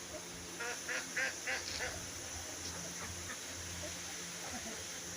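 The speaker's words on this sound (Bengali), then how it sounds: "হাঁস" Ducks quack in a short burst of several calls near the start, then a few fainter calls, moderately distant in an open rural setting over a steady background hum.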